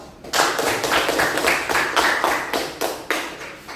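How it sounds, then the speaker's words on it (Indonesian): A small class applauds for a few seconds, a close burst of quick, uneven hand claps from a handful of people in a room. "Oke, beri aplaus."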